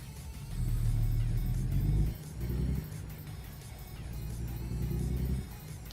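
Heavy truck engine in American Truck Simulator, a deep, loud rumble that revs hard, drops briefly, then pulls again with a steady low drone.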